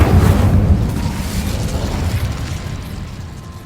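The Incendio fire spell bursts out in the Hogwarts Legacy video game as a loud, deep whooshing blast. Its roar slowly fades over a few seconds.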